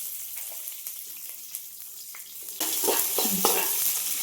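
Onions drop into a hot pan already holding green chillies, and the quiet sizzle jumps into a louder, dense crackle of frying with a few stirring scrapes, close up.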